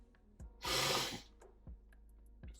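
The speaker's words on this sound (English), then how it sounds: "Sorry for the sniffles" Close to the microphone, a person gives a few quick sniffs and one longer, louder snuffling inhale, with short pauses between them.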